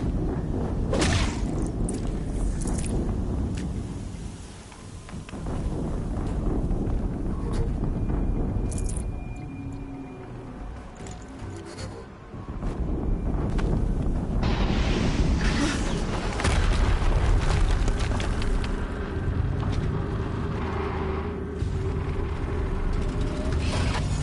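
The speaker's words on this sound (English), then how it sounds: "Another explosion." Explosions and heavy combat in the video game Horizon Zero Dawn fill the whole stretch with loud, dense rumbling blasts and whooshing bursts, dipping briefly between booms.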